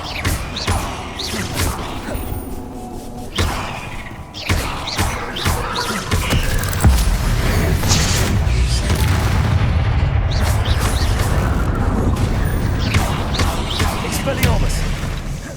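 Loud, booming spell explosions and rumbling magical combat in the Hogwarts Legacy video game, with heavy thuds and a sustained roar, while a voice shouts over the action.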